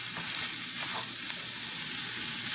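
Eggs being stirred into fried rice that sizzles steadily in a hot pan, with the scrape of stirring and some light clinks over a constant hiss and no voices.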